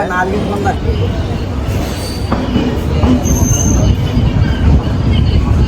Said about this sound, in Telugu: జస్ట్ ఇప్పుడే కదిలింది ట్రైన్ అయితే.